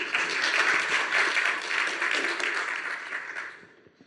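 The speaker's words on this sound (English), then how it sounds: "Let's have a round of applause for the last speaker of the day in the hash room." Conference audience in a hall applauding a speaker, a full round of clapping that holds steady, then thins and fades out near the end.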